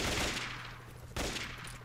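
Gunfire from a gun in the PRISM video game: two bursts of loud rapid shots, each decaying into a rumbling tail, the second starting abruptly after a short gap.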